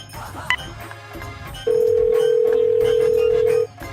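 A steady, loud telephone dial tone hums for about two seconds after a short click, with faint room noise around it.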